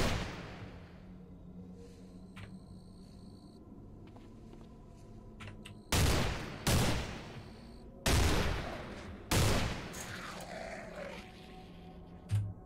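Gunfire in the Cataclysm DDA game: after a low, quiet stretch with scattered beeps, four loud, sharp shots ring out at irregular intervals, each trailing off in a short decaying tail, with no speech.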